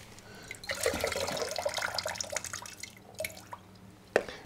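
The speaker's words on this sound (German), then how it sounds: "dann gieße ich das einmal raus hier." Water poured out of a houseplant container into a sink indoors, a trickling, splashing flow over several seconds that tapers into scattered drips, with one sharper splash near the end and no talking.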